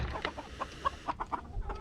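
A rooster and hens cluck close by on a farm, a series of short soft clucks and calls in quick irregular succession.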